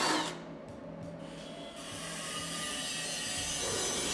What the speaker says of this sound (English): now we're gonna center drill